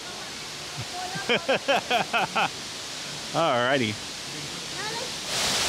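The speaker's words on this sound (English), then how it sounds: "You're making the water come down." Water pours down the tall indoor Cloud Forest waterfall at Gardens by the Bay, Singapore, a steady broad rushing hiss filling the background while birdlike chirps and a voice come through over it.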